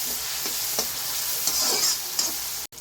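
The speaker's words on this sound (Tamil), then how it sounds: "இதெல்லாம் சேர்த்து நல்லா தக்காளி குழையிற அளவுக்கு நல்லா வதக்கணும்" Onions and tomatoes sautéing in a pan for cumin curry, a bright continuous sizzle with repeated stirring scrapes, close up, with a brief clatter near the end and no speech.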